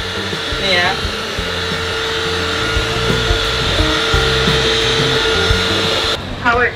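A Mr Robot robot vacuum cleaner with a wet mop attachment runs with a steady, loud motor whir and hum throughout. Brief chirpy sounds break in near the start and the end.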